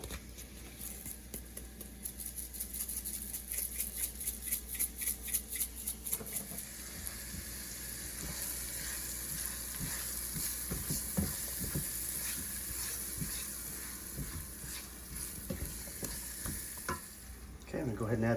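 Garlic and chili flakes fry in a hot pan for tofu pad thai, a continuous close sizzle broken by the scrape and rattle of stirring, with bursts of crackling toward the end.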